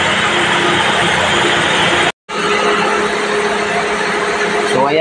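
A Toyota Corolla engine runs steadily just after a battery replacement, a loud even drone with a brief cutout near the middle before it carries on idling.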